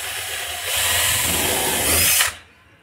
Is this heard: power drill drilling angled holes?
yes